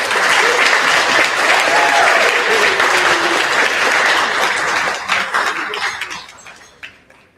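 A large gala audience at an awards celebration applauds award recipient Dr. Afia Wilson with dense, loud, sustained clapping that thins out and fades away over the last couple of seconds.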